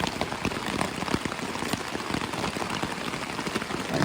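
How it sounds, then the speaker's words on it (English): Heavy rain pours down onto a hammock shelter at a lakeside campsite in Algonquin, a dense, steady patter of drops drumming the fabric up close, with no voices. "we took shelter in the hammock just before it started downpouring"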